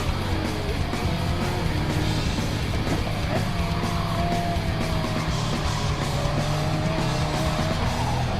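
Race car tires skidding and squealing in a racing video game, a steady loud engine roar throughout with a long rising tire squeal drawn out over the middle and end.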